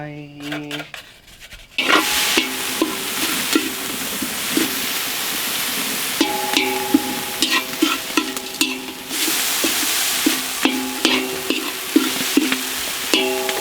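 Chicken egg clusters are stir-fried in a pan outdoors by a river and mountains: a loud, close, continuous sizzle broken by repeated scraping and clanking strokes of the stirring utensil against the pan.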